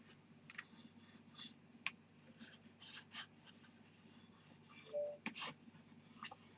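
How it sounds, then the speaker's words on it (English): A bone folder is pressed and drawn along the paper joins of a large sticky-notes cover, giving soft, close scraping and rubbing strokes in short repeated passes over a quiet room hum. "take your bone folder and just go down your joins."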